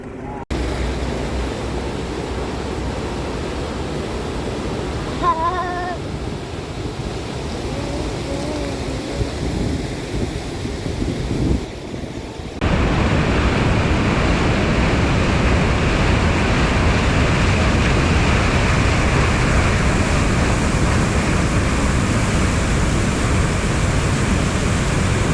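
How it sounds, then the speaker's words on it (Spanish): Waterfall near El Chaltén, a steady broadband roar of falling water that grows louder and closer midway, with faint voices early on. "vemos que aparentemente hay otra cascada más."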